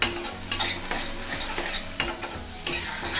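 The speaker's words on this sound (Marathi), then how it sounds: "आता ह्या मसाल्याला पूर्ण असं तेल सुटेपर्यंत आपल्याला भाजून घ्यायचं आहे" Tomato masala frying in oil in a pan while being stirred, a dense close sizzle with scraping strokes of the spoon recurring every half second or so, loud and continuous without talk.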